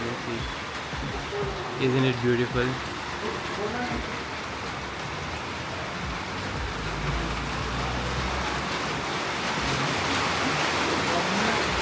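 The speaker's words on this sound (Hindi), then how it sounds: "आप ये आवाज़ सुन सकते हैं टीन पर जो बारिश की बूंदें बरस रही है" Heavy rain drums steadily on a tin roof, a dense, constant hiss that builds louder toward the end, with a person speaking briefly over it early on.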